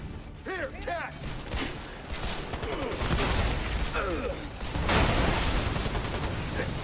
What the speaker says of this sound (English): getting shot from absolutely everywhere